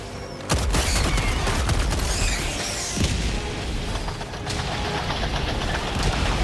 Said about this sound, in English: The barrage is coming.